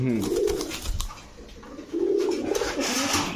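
Pakistani pigeons coo in low, throaty rolling bursts close by, with faint voices in the background.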